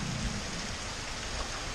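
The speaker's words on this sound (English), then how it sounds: "unable to do diddly except watch the rain come down" Heavy rain falls outside a house in a continuous loud wash, with a deep low rumble underneath like distant thunder, over a brief stretch.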